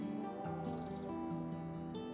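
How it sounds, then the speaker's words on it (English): Birds chirp in a quiet, moss-draped Pacific Northwest forest on the Bridal Veil Falls trail, a few soft high calls over a faint steady background hum, distant and gentle. "it's quiet and you can hear the birds"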